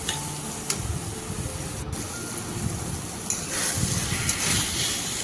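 Taro leaves sautéing in a pan with salt and turmeric, a steady close sizzle with occasional scrapes and stirring noises running throughout.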